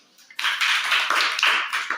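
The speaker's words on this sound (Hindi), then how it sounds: "ताली बजाओ" A class of schoolchildren clapping together in a classroom, a dense burst of many hands starting abruptly and continuing steadily for under two seconds, with slight swells in the rhythm.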